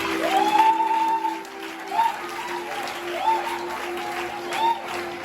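A church congregation applauds and cheers in a hall, a diffuse clapping wash that swells in short bursts beneath a loud, ringing voice speaking over it.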